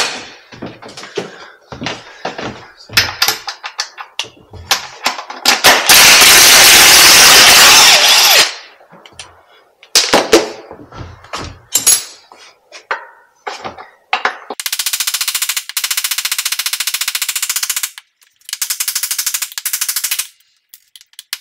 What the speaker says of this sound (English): So I'm going to get a socket and we'll gun that off.